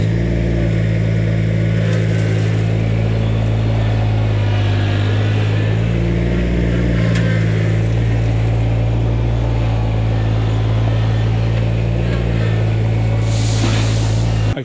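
A Kubota BX compact tractor engine runs loud and steady at close range, its low drone holding throughout as the loader lifts and the machine moves back and forth with an added 450 pounds of weight.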